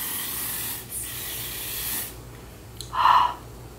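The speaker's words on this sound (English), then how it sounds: "Ooh, I'm gonna like spray some." Short hissing pumps of a Bath & Body Works cooling aloe body mist spray, a few soft bursts close to the mic with a stronger final spritz, in a quiet room without speech.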